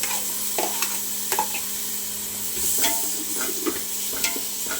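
Tomatoes fry and sizzle in a pan for chicken and mutton curry, with a steady hiss broken by intermittent scraping and clacking strokes of a stirring spoon, close and alone without talk.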